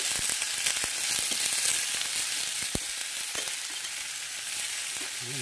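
Crab frying in a hot pan, a dense continuous sizzle with occasional sharp pops and crackles, close and steady, no talking.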